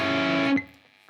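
A brief burst of overdriven electric guitar from a song's riff, one sustained crunchy chord that stops abruptly, leaving a faint decaying tail.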